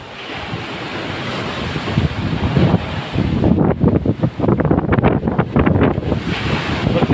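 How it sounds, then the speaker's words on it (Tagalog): Strong wind and heavy sea waves crash close by near a seaside house threatened by the surf, the roar building and surging loudly in repeated rushes, with steady wind buffeting the microphone. "lakas po ng hangin at alon po"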